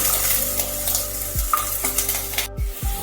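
Hog plums (amra) fry in mustard oil with a steady sizzle, while a utensil stirs and knocks against the pan a few times over the continuous frying hiss.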